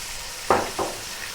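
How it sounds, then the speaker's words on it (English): Onion and celery frying in a pot for a lamb and potato stew, with two short bursts of sizzle and stirring over a steady background hiss. "we're going to add 2 cups onion, 2 cups celery"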